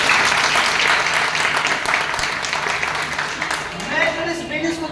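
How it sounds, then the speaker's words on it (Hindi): An audience at a business talk applauding loudly: dense, continuous clapping that fills the whole stretch and eases slightly toward the end, where a voice starts speaking over it. "और जोरदार ताली मारा"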